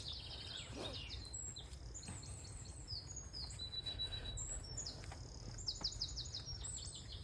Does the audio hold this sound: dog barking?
no